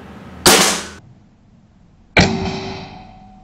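Two sharp, loud shots from a Bocap Predator Tactical SAS 500 cc air rifle at a 20-meter target, about two seconds apart, each a crisp crack followed by a short ringing decay.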